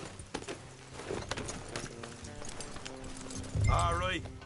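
Hooves clip-clop as a horse gallops in a video game, rhythmic thuds under a man's speech, and a horse whinny near the end.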